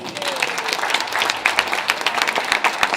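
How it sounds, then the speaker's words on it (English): Audience at a poetry and music event bursts into applause, dense claps continuing steadily throughout at moderate distance. "A round of applause for their help."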